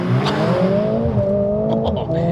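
A Mercedes-AMG A45 S launches hard under launch control in race mode, its engine droning loud and rising in pitch through the gear, close and continuous with a voice talking over it.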